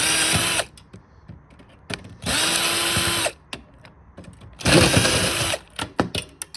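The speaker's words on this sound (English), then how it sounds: "I'm just going to use this drill right here, but it's just 3 simple screws." A power drill whirs in three bursts while removing three screws from a pinball machine's PC unit, each rising to a steady whine then stopping, with short pauses and small clicks between.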